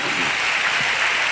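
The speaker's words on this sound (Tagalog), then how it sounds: "Isang malakas na palakpak sa ating mahal na Panginoon." A church congregation at a Sunday general worship service claps loudly and densely in continuous applause filling the hall, with no break across the short span.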